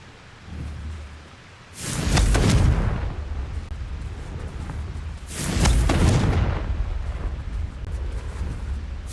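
Two heavy booming blasts of the Confringo explosive spell in Hogwarts Legacy, each a sudden loud roaring burst that rumbles away slowly, a few seconds apart over a low background.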